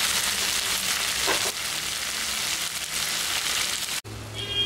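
Potato, peas and tomato curry stirred in a pan over low heat, a soft continuous sizzle with faint scraping of the spoon, cut off by a brief gap near the end.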